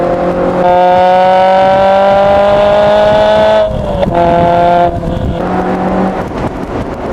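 A Lotus Elise Sport 160 with its K-Series engine revs hard at full throttle. Rising harmonic engine whine climbs through a gear, then a brief dip at a gear change before it pulls again. Loud and close, with no talking.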